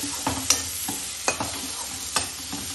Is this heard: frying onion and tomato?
yes